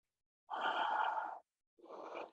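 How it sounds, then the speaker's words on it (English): Two slow breaths pushed out through the mouth during a yoga side stretch, a long airy exhale followed after a short pause by a shorter one, close and clear with no talking. "We come up and exhale."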